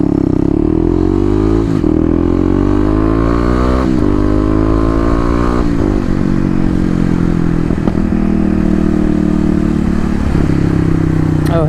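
Dual-sport motorcycle ridden up through its gears, the engine note climbing and dropping with each shift and throttle change, loud and close, with clattering and scraping from rough ground underneath.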